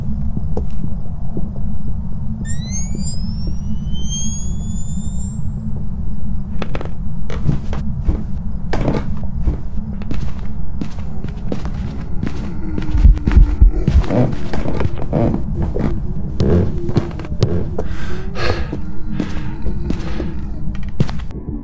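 Myling ghost footsteps in the video game Phasmophobia thud in a steady run of heavy, evenly spaced steps over a constant low rumble, with a brief chirping whistle early on.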